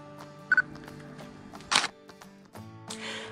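Single-lens reflex camera shutter clicks while photographing wild birds with a telephoto lens outdoors, a few short sharp clicks and bursts near the microphone, alone.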